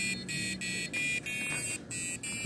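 A homemade Arduino kitchen timer plays its alarm tune, a series of bright electronic buzzer notes in short bursts separated by brief gaps, loud and close, with no speech.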